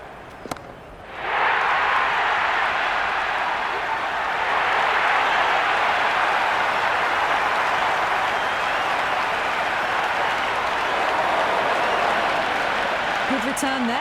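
A packed cricket stadium crowd at a T20 World Cup Super 8 match between England and New Zealand breaks into sustained applause and cheering, a dense continuous roar that swells after a brief quiet start and holds steady.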